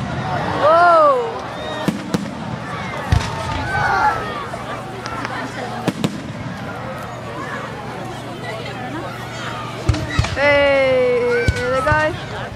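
Fireworks bang in sharp, scattered reports, some near and loud, over a bustling crowd with people talking and whistle-like shrieks rising near the end.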